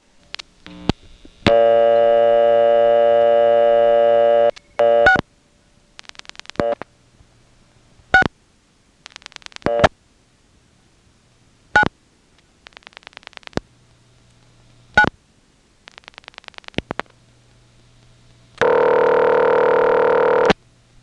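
Independent step-by-step telephone exchange in Nantes, Quebec: a steady dial tone, then bursts of rotary dial pulses clicking in quick trains, with selector clicks between digits and a loud line tone at the end.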